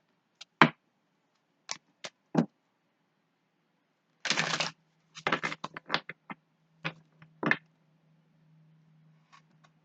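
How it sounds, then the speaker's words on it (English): Tarot cards are shuffled in short, crisp bursts, with soft riffling clicks and flutters separated by quiet pauses, close and fairly faint. "I love shuffling on camera"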